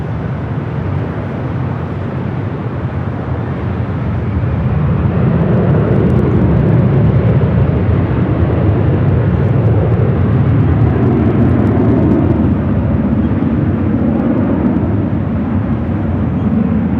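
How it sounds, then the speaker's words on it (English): An American Airlines Boeing 777-200ER arrives at LAX from London Heathrow, its engines a broad, loud rumbling roar that swells and holds steadily as it passes. "Next arrival is American Airlines 137 coming in from London Heathrow on the 777-200ER."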